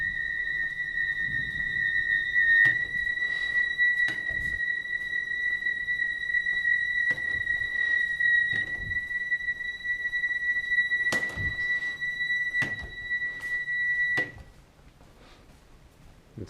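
Lab fume hoods in a university lab give a steady high-pitched electronic whine, two sustained tones holding for about fourteen seconds amid faint clicks before cutting off, leaving quiet room noise.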